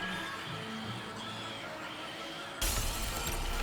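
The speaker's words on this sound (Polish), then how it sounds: "Kurde, aż szyby pękają." A mandrake's scream cracks and shatters greenhouse glass in Hogwarts Legacy: a sustained shrill wail followed by a sudden loud burst of breaking, crashing glass.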